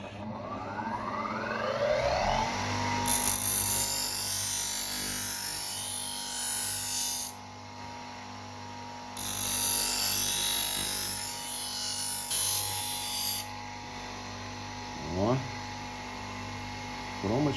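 A knife being sharpened on a bench grinder's abrasive wheel, with a steady motor hum under bursts of loud, hissing grinding contact that come in two long passes separated by quieter stretches.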